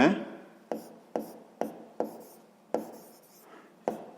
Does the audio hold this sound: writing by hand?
yes